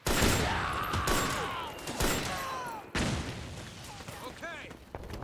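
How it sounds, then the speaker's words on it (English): Grenade blasts and rapid gunfire from Metal Gear Solid 4: Guns of the Patriots, loud booms and bursts repeating over several seconds, with a voice talking over the combat. "Grenade!"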